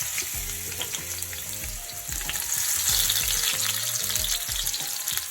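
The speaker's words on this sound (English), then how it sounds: "I have my oil on medium heat. I'm going to go ahead and add my veggie that I cut up." Chopped onions, tomato and sweet pepper hit hot oil on medium heat for Jamaican salt fish, giving a loud, steady sizzle with soft knocks from the pot throughout.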